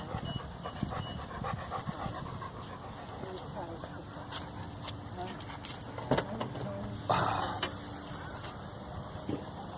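Keys jangle briefly in a park car park as a dog is loaded into a car, with panting, a passing car and occasional talk around the close, scattered metallic clinks.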